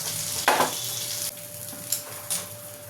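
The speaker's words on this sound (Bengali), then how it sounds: "এরকমভাবেই আমি বাদবাকি মাছগুলো ভেজে নেব" Prawns frying in hot oil for Bengali potol chingri give a steady close sizzle, with a few louder spattering bursts rising over the hiss.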